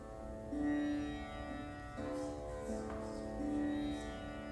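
Soft, sustained plucked sitar drone strings ring with a shimmering, buzzy resonance, notes overlapping in a quiet drone with gentle new plucks every second or so.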